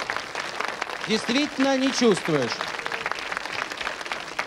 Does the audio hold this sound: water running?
no